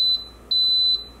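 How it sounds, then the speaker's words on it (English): A long, continuous high-pitched electronic beep from an Instant Pot Pro electric pressure cooker sounds steadily, swelling louder in three brief pulses. "Sometimes it's a long beep,"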